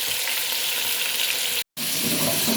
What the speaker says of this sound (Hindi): इसको बहुत अच्छे से फ्राई करना है चिकन को